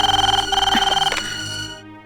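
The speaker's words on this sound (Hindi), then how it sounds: "चल राम को फोन करते हैं।" A landline telephone rings with a rapid trilling electronic tone in a Hindi-dubbed film, then breaks off as clicks and handling noise follow, close and fairly loud.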